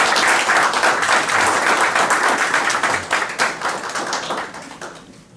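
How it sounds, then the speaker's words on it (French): Audience applause at a political assembly in Paris, a dense sustained roar of clapping hands, loud at first and gradually thinning and fading toward the end. "Sous vos applaudissements, s'il vous plaît."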